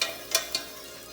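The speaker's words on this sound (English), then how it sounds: "you can hear it sizzling" Lemon pepper chicken frying in an air fryer, giving a faint steady sizzle with two brief crackling bursts, no talking.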